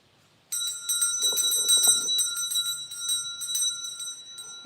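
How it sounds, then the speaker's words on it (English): A small bell rung during a live tarot reading, rapid repeated bright strikes with a sustained shimmering ring that slowly fades, with a brief murmur of voice partway through. "I forgot to ring the bell for you, Chloe."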